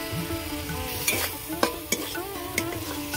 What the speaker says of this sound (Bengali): এবার মাংসগুলো দিয়ে দেব।